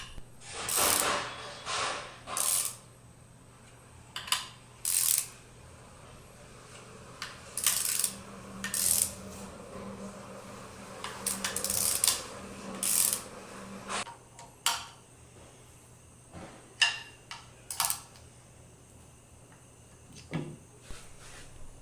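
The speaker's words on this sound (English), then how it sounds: "Use a ratchet with a 13mm socket and evenly insert the 3 bolts" Ratchet with a 13mm socket driving bolts on a pump gearbox cover, repeated close bursts of quick clicking pawl ratcheting with pauses and metallic handling clinks, no speech.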